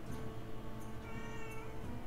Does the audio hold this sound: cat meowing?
yes